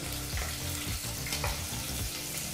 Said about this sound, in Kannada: ಹಾಗೆ ಈ ಸಮಯದಲ್ಲಿ 1 ಈರುಳ್ಳಿನ ಹಾಕಿ ಮೀಡಿಯಂ ಫ್ಲೇಮ್ನಲ್ಲೇ 3 ನಿಮಿಷ ಈರುಳ್ಳಿನ ಫ್ರೈ ಮಾಡ್ಕೋಬೇಕಾಗತ್ತೆ